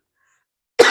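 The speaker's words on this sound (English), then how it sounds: "I'm probably going to keep coughing." A single sharp cough from a woman recovering from bronchitis breaks the silence near the end, close and loud.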